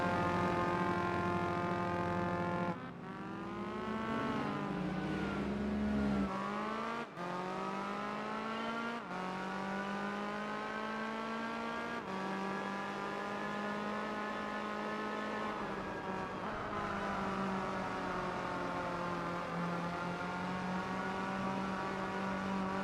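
Race car engine in Gran Turismo 4 holding a steady high-revving drone, pitch climbing through each gear and dropping sharply at several shifts across a long continuous run, loud and close with no talk.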